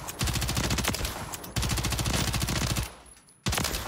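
Rapid automatic gunfire in the video game Warzone, in long sustained bursts, loud and close, with a brief pause before another burst starts.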